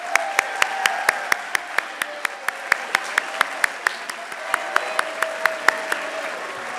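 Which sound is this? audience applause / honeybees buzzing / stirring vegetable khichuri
audience applause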